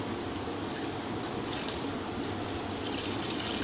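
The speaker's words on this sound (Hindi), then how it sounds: "अब हम इसमें 2 गिलास पानी के डाल देंगे" Two glasses of water are poured into a cooking pot holding meat for gobhi gosht, giving a steady, even splashing rush from start to finish, close and unaccompanied by speech.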